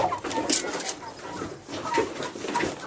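Broiler chickens cluck and chirp steadily while eating feed, a busy flock close by with overlapping calls and no talk.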